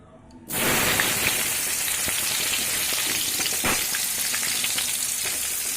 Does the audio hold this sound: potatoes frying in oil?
yes